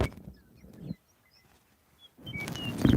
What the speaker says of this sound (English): Can you guys hear those birds?